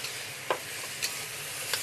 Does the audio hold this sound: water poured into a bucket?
no